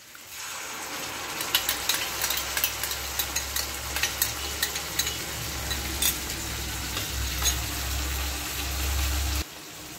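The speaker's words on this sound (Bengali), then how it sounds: "আমি একটু নেড়ে নিচ্ছি" A spice mix of nutmeg, cardamom, cinnamon, cloves and black pepper is stirred in a pan for chilli chicken. Rhythmic scraping strokes repeat over a steady frying sizzle, close and clear.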